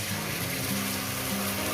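Water is poured into a pan of spiced onion masala for a lote fish and eggplant curry. It makes a continuous, fairly loud rushing pour against the cooking sound, with no talking.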